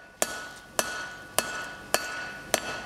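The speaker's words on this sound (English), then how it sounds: "Bring my hammer down at a slight angle, and lifting my bar up off the anvil as well." A hammer strikes a bar on an anvil five times at an even pace while a taper is forged by hand, each blow a sharp close ringing clang.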